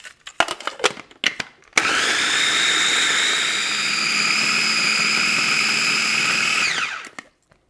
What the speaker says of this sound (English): put it in a food processor